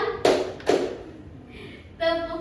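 Pupils in an Indonesian classroom clapping their hands together in a teacher-led clap routine, two sharp group claps close together followed by a voice speaking.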